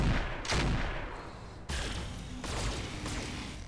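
Gunfire from the tactical shooter video game Roguepoint: several loud bursts of fusillade, a heavy volley at the start and further sharp bursts later, echoing with no talk.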